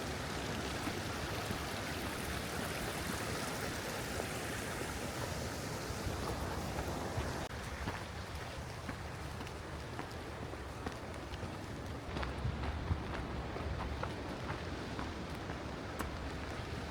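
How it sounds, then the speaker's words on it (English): A woodland stream on the Superior Hiking Trail near Spirit Mountain rushes and babbles steadily, a continuous broad wash of flowing water heard close by for the whole stretch, with no talking. "I get to walk along this stream"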